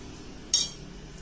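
A spoon adds sugar to seasoned flattened rice, giving a single quick metallic clink against the pan, faint and brief in an otherwise quiet kitchen.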